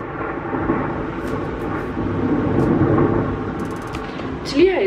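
Thunder during a storm at home: a long, steady low rumble rolls on for several seconds with a faint hiss like rain underneath, swelling slightly near the end.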